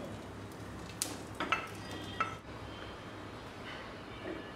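Fried cashews and raisins being scooped from a pan into a bowl for carrot halwa, giving a few faint, scattered metallic clinks of spoon against cookware over a quiet kitchen background.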